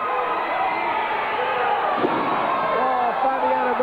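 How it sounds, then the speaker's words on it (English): A wrestling arena crowd roars continuously after a slam on the Concrete Cowboy, a dense wash of cheering and shouting with a brief sharp impact midway. "This crowd is going nuts."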